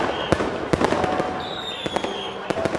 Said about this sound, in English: We can get a better view of the fireworks.